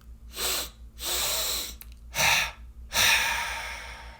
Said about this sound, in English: In through the nose, but a deep belly breath.